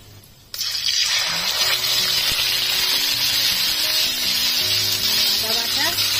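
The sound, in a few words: onion paste added to hot oil, sizzling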